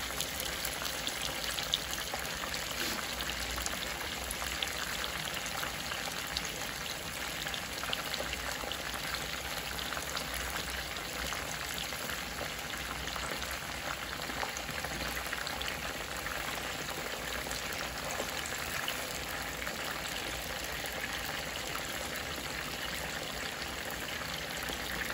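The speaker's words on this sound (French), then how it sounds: "je suis en train de faire cuire mes morues." Salt cod simmering in a pot gives a steady, faint bubbling hiss that stays even and continuous throughout, with no voices.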